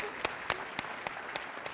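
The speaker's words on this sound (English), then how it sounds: "Okay, yeah, you can clap for that." Applause from an audience at an engineering deans' breakfast, a steady faint patter with several sharper claps standing out at regular intervals and no talk over it.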